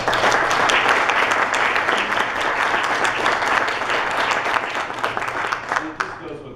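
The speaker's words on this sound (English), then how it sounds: "Let's give them a round of applause." Audience at a congressional town hall in Osceola County breaks into loud, sustained applause that fills the room, tapering slightly toward the end.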